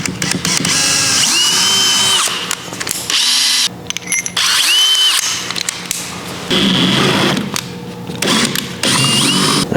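A power drill bores a hole with a 5/16 inch bit, working through a pilot hole while fitting a steering kit: loud, close whining bursts that rise and stop several times with short pauses between runs.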